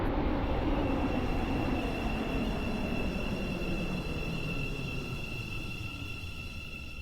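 A passenger train pulls away from a station platform with a steady low rumble and rolling wheel noise, plus high whining tones that slowly fade as it leaves. The sound is continuous and moderately loud, with no voices.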